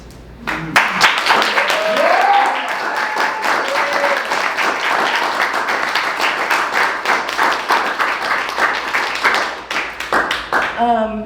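An audience applauds after a poem at a spoken-word showcase, with loud, sustained clapping and a few whoops and cheers rising early on before the clapping thins toward the end.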